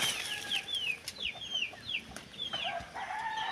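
Chickens cluck and squawk in short, repeated calls, fairly close, with soft background noise and no talking.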